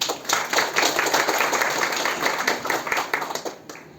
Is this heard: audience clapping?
yes